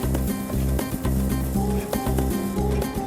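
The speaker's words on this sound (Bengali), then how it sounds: "তাহলে এখন পেঁয়াজগুলো দিয়ে দিচ্ছি।" Chopped onions fry in a pan for chicken stroganoff, making a continuous close sizzle over rhythmic background music.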